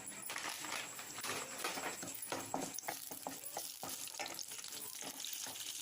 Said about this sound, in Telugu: తాలింపు కొంచెం బాగా వేగిన తర్వాత మంచి వాసన వస్తున్నప్పుడు